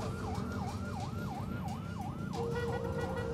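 Ambulance siren wailing through congested traffic, a loud, steady rising-and-falling sweep repeating roughly twice a second over a dense rumble of road noise, with no voices.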